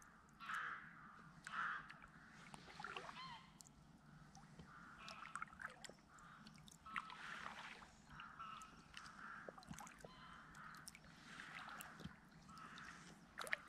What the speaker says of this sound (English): And can you hear the rooks?